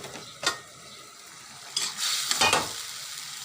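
Food frying in a pan is stirred, with a quiet sizzle broken by a few sharp scrapes and clatters of a utensil against the pan, close by and without talking.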